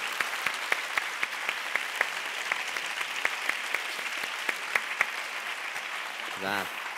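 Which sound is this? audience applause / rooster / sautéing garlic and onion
audience applause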